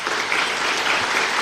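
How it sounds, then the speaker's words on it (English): Audience applause for the class of 2021 at a district well-done function, a dense, steady wash of clapping from a large crowd that holds even throughout, with no talk over it. "You can give this class of 2021 a big round of applause."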